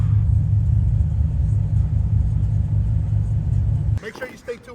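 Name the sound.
truck engine rumble heard from inside the truck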